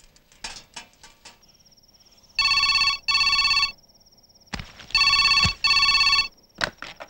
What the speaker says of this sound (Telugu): అమ్మా, నాన్నకి ఫోన్.